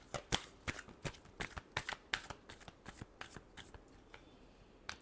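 A deck of tarot cards is riffled and shuffled close up, giving a quick irregular run of sharp papery snaps and flutters that stops near the end, with no talk.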